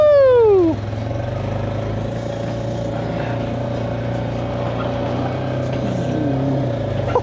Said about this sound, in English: Hop on the four-wheeler. Let's get it started.